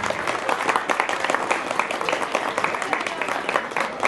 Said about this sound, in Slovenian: Prosim še za en aplavz za naše godbenike.